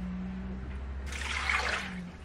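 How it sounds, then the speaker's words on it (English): A cup of water pours into a pressure cooker pot with a brief rushing splash lasting about a second, over a low steady hum. "We're going to put a cup of water in there."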